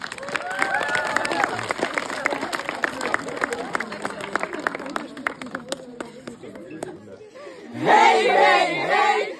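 An audience at a camp's coat-of-arms and chant presentation applauds the shoemakers' guild. Scattered claps patter under voices, then a loud burst of group shouting and cheering rises near the end.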